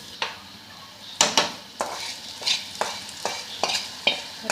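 Green chillies sautéing in a pan for Kerala-style beef sukka, with about eight scraping spoon strokes at a steady rhythm over a soft, constant sizzle, close and clear with no voices.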